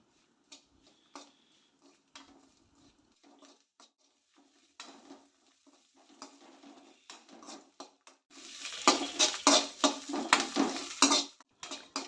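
Grated coconut being roasted in a pan: scattered light scraping and tapping of a utensil at first, then louder, continuous stirring and scraping with a soft sizzle toward the end.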